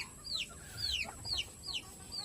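Faint clucking and short chirpy calls from chickens at evening feeding, repeating every half second or so against quiet background noise.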